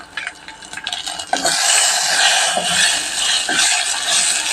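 Tempering with dried red chillies is stirred in a small pot for chutney: a few close metal clinks and scrapes, then a loud, sustained sizzle with occasional spoon knocks.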